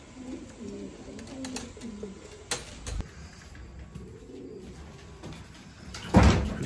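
Racing pigeon back from a 200-mile young-bird race, cooing in soft repeated low phrases close by, with a few chirps, a door knock and a louder rustling burst near the end.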